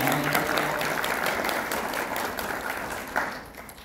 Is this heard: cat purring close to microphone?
no